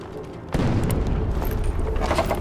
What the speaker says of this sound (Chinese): 四周的炮击声没有间断过